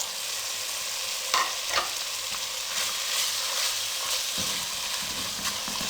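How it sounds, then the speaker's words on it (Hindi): Potatoes fry over a medium flame with salt, crushed red chili, turmeric and coriander powder, giving a steady, close sizzle with a few sharp stirring scrapes along the way and no voices. "अब मीडियम फ्लेम पे 2 से 3 मिनट इसकी हम अच्छे से भुनाई कर लेंगे।"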